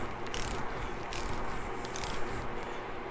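A ratchet wrench snugs the front handlebar clamp bolts on a 2019 Harley-Davidson Iron 1200 Sportster, giving close, steady rapid clicking with a few brief bursts of brighter metallic ticks, no talk.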